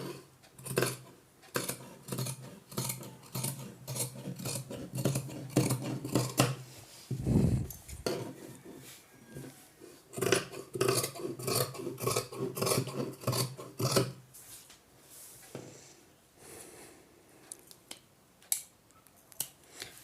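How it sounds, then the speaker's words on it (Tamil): Scissors cut through blouse cloth in a long run of rapid, rhythmic snips and rasping slides against the fabric, close and clear, with a brief louder rustle midway and no talking. "ஓரளவு வரைஞ்சி முடித்தாச்சு இப்போ கட் பண்ணி எடுத்துடலாம்"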